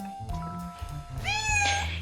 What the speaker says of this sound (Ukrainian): Єдиний його мінус він він постійно мівчить, наче щось просить.